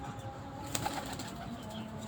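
Fancy frill-back pigeons give soft, low coos at an aviary, faint and a little distant under a steady background hiss, with no talking.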